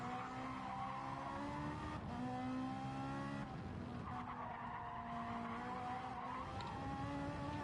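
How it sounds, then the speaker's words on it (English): A race car in the Gran Turismo video game at Spa-Francorchamps squeals its tyres through corners, a sustained tonal screech over a droning engine, fairly even in level and fading slightly midway. "You can hear the tyres squealing there, really trying to make the most out of the circuit."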